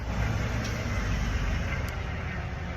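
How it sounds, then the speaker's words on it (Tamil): Steady traffic rumble from vans, lorries and buses passing on a nearby road, a constant low roar filling the whole stretch without speech. "ரோடு இங்கால பக்கம் நிறைய வெஹிக்கிள்ஸ் போகுது, அதான் உங்களுக்கு அந்த சத்தங்கள்"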